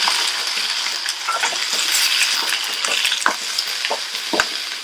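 Onions, green chillies and curry leaves sauté in hot oil for moong dal sambar, with a steady bright sizzle and frequent scraping ladle strokes and clinks against the pan throughout.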